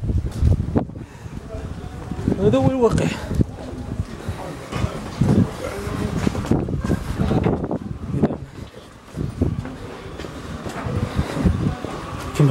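Strong wind gusts roar and buffet the microphone during heavy rain in a Moroccan flood on a Thursday, a steady rushing noise under someone talking throughout.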